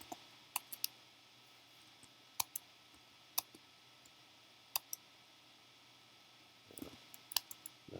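Sparse keystrokes on a computer keyboard while entering scores into a gradebook program, a few isolated clicks spread out, then a quicker burst of typing near the end, quiet and close.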